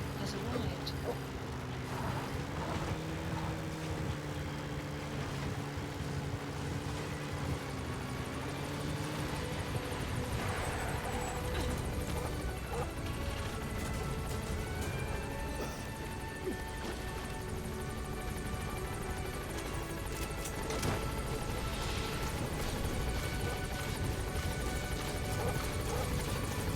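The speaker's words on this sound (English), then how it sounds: "Support helicopter has arrived." Support helicopter arriving during an extraction to Mother Base in the video game Metal Gear Solid V: The Phantom Pain, a steady loud rotor and engine drone that holds through the whole stretch, with radio-style voices over it.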